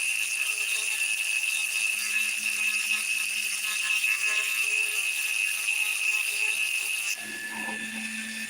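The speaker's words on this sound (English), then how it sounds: "It's the same way with these little tips they have for the Dremel to do the polishing." A Dremel rotary tool polishes an agate carving with a steady, high-pitched whine and faint grinding. The whine holds for about seven seconds, then its tone drops and changes as the load shifts.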